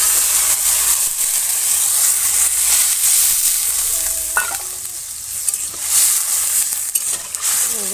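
Water goes into a hot pan of pabda fish curry in a village kitchen, setting off a loud, continuous hiss and sizzle with stirring scrapes, steady and close, with no talking.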